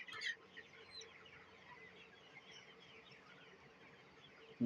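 Desi chickens and roosters on a poultry farm cluck faintly and steadily in the background, with a brief louder squawk near the start and a sharp sound at the very end.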